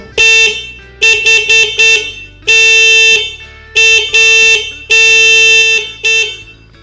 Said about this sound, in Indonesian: kemudian kita tekan tombol klaksonnya.